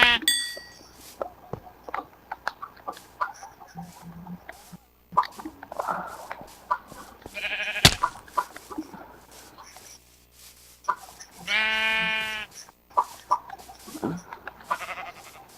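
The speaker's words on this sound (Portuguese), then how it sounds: "Uma ovelha" A sheep in the Minecraft video game bleats in a few short, separated cries amid sparse clicks and small game sounds, with one longer bleat near the end and quiet gaps between.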